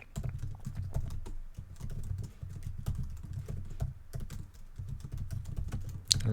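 Steady computer-keyboard typing while writing Rust code for a roguelike game, a dense run of close, quick keystrokes with a few brief pauses, no talking.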